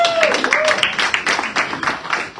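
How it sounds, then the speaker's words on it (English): Audience applause at a live CSW68 parallel event session, a moderately loud patter of clapping hands that keeps going throughout. "Let's give a round of applause"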